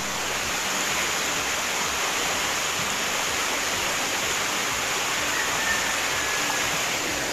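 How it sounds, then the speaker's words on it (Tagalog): A swollen river rushes in a loud, steady, broadband roar that holds continuously, close and unbroken, with no voices over it. "Laki na naman ng ilog oh."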